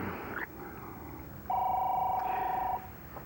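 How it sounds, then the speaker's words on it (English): Telephone rings in a home during a soap-opera scene: a steady electronic ring tone holds for about a second and a half at a moderate level, with room tone before and after. "every time I put my arms around you, the phone rings"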